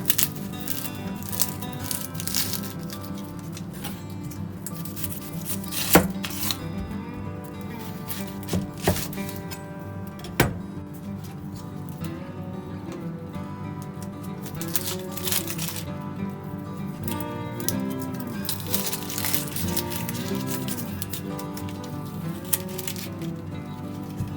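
A knife cuts an onion into wedges on a board for yakisoba, giving irregular soft chops and a few sharper knocks over a continuous stretch with faint background sound.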